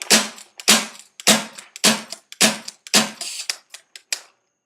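A 12-gram CO2 Sterling replica gun fires about a dozen sharp, loud shots up close in a rapid, slightly uneven burst, each crack followed by a brief hiss.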